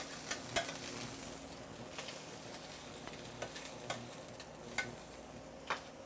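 Duck breast crisping in a hot pan, a soft steady sizzle with faint crackles and occasional sharp ticks and pops, fairly quiet and close, with no talking.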